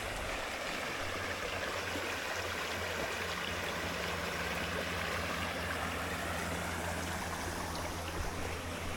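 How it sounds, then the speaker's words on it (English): Spring water flows steadily in a stream at Big Hills Springs, a constant broadband rush and trickle that stays even and unbroken throughout, with a faint low hum underneath. "all the way up through here there's springs, as you can see, and they put out a lot of water"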